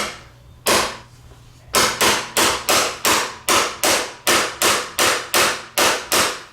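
A hammer taps a bolt threaded into the camshaft of a Honda three-wheeler, about a dozen sharp metallic blows in a steady, even rhythm, close and loud with no talking.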